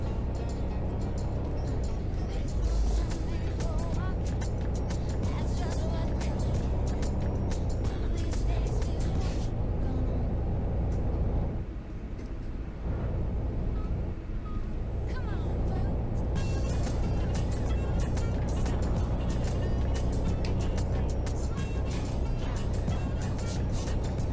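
Coach bus engine droning and building in the video game Fernbus Coach Simulator, a steady loud rumble with road noise that dips briefly midway, with someone talking over it.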